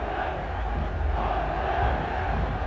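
Crowd of fans cheering in a football stadium during a Tractor Sazi versus Al Ahli AFC Champions League match, a dense, steady roar filling the air without breaks.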